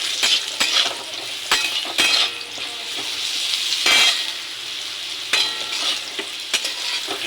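Potatoes fry in oil in a pan, a loud steady sizzle broken by repeated sharp scrapes and clacks of a spatula stirring against the metal, close and without talk.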